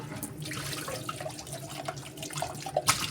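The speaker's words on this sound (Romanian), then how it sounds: "Acum mă spăl eu pe mâini" A kitchen tap runs while hands are washed at a sink, a steady close rush of water with small splashes and clinks, growing a little louder near the end, with no talking.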